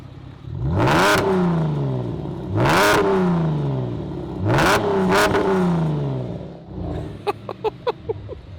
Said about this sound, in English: How's it feel revving a 304 horsepower car?